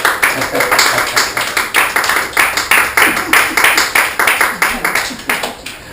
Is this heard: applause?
yes